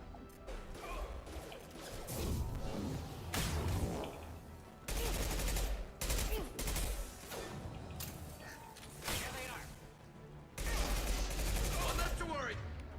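Rifle gunfire in the video game Mass Effect 2 comes in bursts of rapid shots, crashes and impacts, loud and dense, with voices talking between the volleys.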